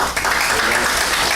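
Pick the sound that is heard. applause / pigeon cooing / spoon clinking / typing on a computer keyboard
applause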